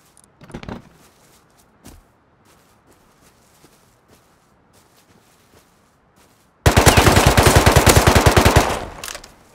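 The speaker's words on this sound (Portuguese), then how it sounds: "Quem tá atirando?" In the survival game Rust, a few scattered shots and footstep-like taps are followed by a loud, sustained machine-gun burst of rapid, evenly spaced rounds lasting a couple of seconds before cutting off.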